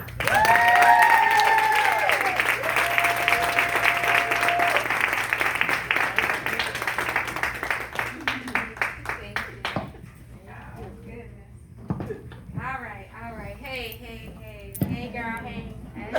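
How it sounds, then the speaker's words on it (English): Applause greets Julie Morrison at a brunch gathering, a full burst of clapping with whistles that thins into scattered claps, after which people talk and call out over the tail of the noise. "Please give a wonderful big round of applause to Julie Morrison"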